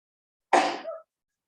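A single short sneeze bursts out close by in an otherwise silent room during a gentle yoga class.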